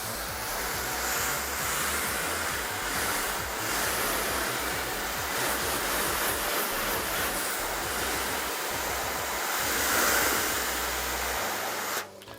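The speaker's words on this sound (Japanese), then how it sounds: "洗い流します。" Water sprays steadily onto a car body to rinse off a coating treatment, a continuous close hiss and splash for about twelve seconds that cuts off abruptly at the end, with no talking.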